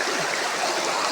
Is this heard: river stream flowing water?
yes